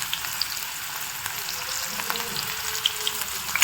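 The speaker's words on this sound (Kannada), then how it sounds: "ಈರುಳ್ಳಿ ಚೆನ್ನಾಗಿ ಆಯಿಲಲ್ಲಿ ಫ್ರೈ ಆಗಬೇಕು" Onion frying in hot oil in a pan, a steady close crackling sizzle with faint stirring scrapes and occasional pops.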